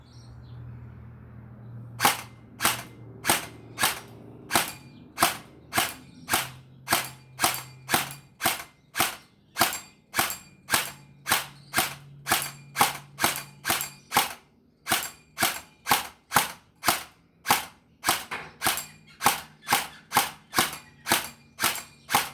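A long series of sharp, evenly spaced gel blaster shots, roughly one or two per second, each with a bright metallic ping off a clothesline, over faint background hum.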